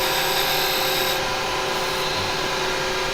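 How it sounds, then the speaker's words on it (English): A square carbide woodturning tool scrapes tear-out from spinning turned wood on a wig stand, a steady close rasping hiss over the lathe's hum, with no talk. "go to your square carbide, and that'll come in, and there you go. Take that out in one easy little go."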